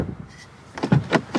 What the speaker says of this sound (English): You need to slam doors